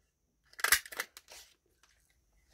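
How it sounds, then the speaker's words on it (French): Scissors cut two circles out of a material, giving a close, brief burst of crisp snipping and crunching, then a few faint taps in near quiet. "je vais couper 2 ronds là-dedans"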